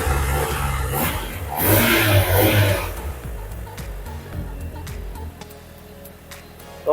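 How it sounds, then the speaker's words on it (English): A Mitsubishi Lancer Evolution 5 fitted with a Blitz blow-off valve and HKS air filter revs hard up close, a loud surging rise and fall of engine roar, then drops back to a quieter idle with ticking sounds. "Engine sound might sound distorted here on the video because of the microphone."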